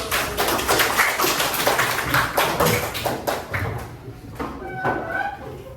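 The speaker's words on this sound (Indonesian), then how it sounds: "sudah tepuk tangan dulu" A class of students claps hands together in a quick, rhythmic patter that holds steady for several seconds, then thins out into a few scattered claps and faint voices.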